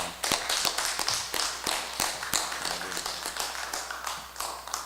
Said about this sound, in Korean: 박수로 우리 사모님 환영했으면 좋겠습니다